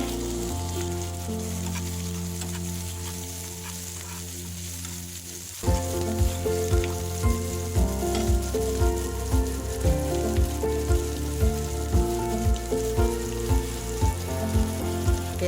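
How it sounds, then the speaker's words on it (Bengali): Onion paste with salt fries in a pan for green tomato bhaji, giving a continuous close sizzle that jumps louder midway, then carries a regular rhythm of stirring scrapes under a sustained tonal background. "পেস্টটাকে একটু ভালো করে ভেজে নিতে হবে"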